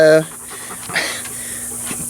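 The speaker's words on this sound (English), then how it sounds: "another dog" Rapid, breathy dog panting close by, running steadily through the short stretch alongside a brief opening tone and some nearby speech.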